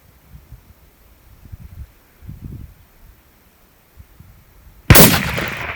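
A single loud rifle shot cracks out while bear hunting in the Pacific Northwest in fall, a sharp broadband blast that decays over about a second, following quiet rustling and faint low movement.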